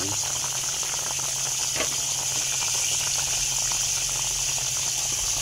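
Carp paksiw in coconut milk bubbles at a steady boil in a pot, a continuous close hiss and gurgle with no pauses.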